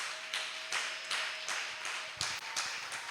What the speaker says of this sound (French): Acclame d'abord très fortement pour le roi de l'Or